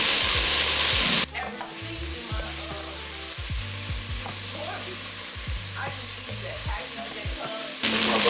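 Onions hit a hot pan for short rib ragu, then fry steadily with a loud continuous sizzle and crackle, stirred with scraping clanks, close up and without talk.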